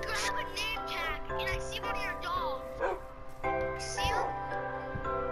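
Dog barks and yips from a tamed wolf in Minecraft PlayStation 4 Edition, repeated short game sounds mixed under continuous talking by players.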